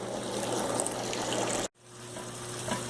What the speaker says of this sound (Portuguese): Começou a transferência do mosto primário.